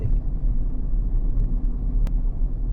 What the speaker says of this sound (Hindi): अब देखिए मिरर की हेल्प से मैं गाड़ी को रिवर्स करूंगा।